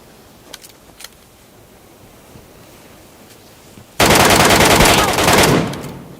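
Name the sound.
gunfire from the video game PUBG Metro Royale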